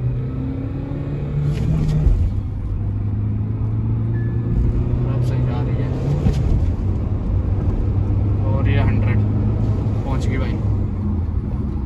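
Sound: Mahindra XUV300 engine revving during acceleration test

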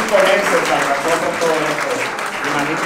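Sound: audience applause at an award ceremony

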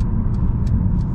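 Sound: Mercedes-Benz CLA 250e plug-in hybrid car driving

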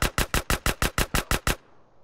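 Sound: submachine gun fire in a video game

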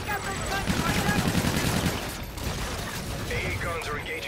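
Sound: anti-aircraft guns firing in Call of Duty: Infinite Warfare video game

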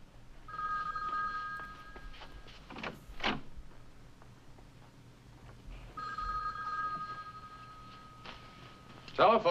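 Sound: telephone ringing

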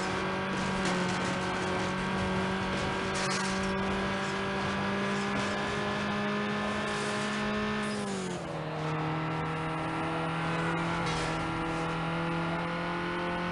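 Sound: car driving in Need for Speed Underground video game

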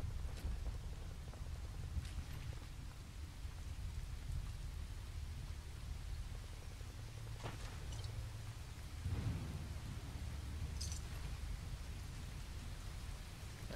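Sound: heavy rain and thunder in Fallout 4 video game

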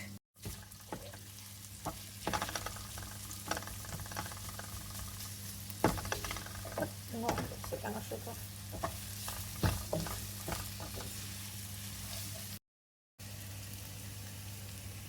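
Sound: onion and green chili frying in a pan for bitter gourd fry

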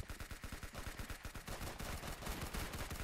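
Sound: gunfire from a weapon in the video game Arsenal

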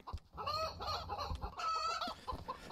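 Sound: chicken clucking in Chicken Killer video game

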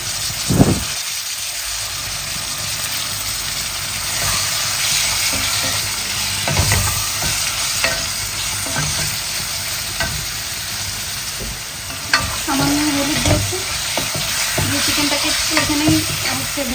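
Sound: frying chicken cubes with onion, ginger and garlic paste

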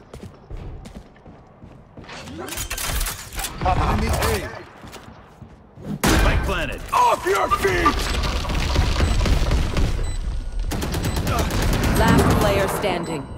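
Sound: gunfire in video game

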